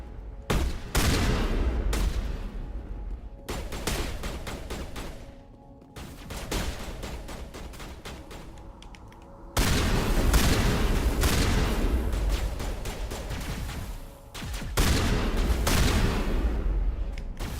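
Sustained loud rifle fire in the Mass Effect video game, aimed at a rock, with long rapid bursts of shots that pause briefly and then resume, filling the whole stretch with dense crackling gunfire.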